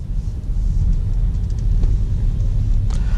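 A 2015 Chevrolet Volt driving quietly on battery power, with only a low, steady road and tire rumble inside the cabin and no engine sound, continuous for a few seconds.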